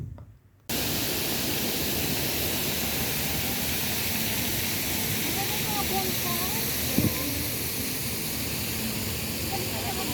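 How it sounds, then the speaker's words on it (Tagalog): Man-made waterfall in a garden pouring steadily as a loud, continuous broadband rush that starts abruptly and holds without a break, with faint voices beneath. "Ang ganda ng man-made na waterfalls na to."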